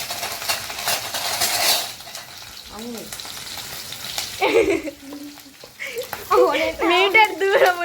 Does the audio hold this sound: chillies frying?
yes